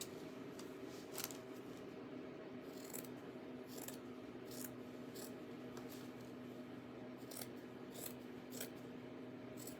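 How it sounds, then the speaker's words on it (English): Scissors snip through craft strips for a Dollar Tree bunny, with repeated crisp close cuts arriving in an uneven rhythm over a low steady background hum. "Wonder if I cut it like this, I can cut it a lot quicker"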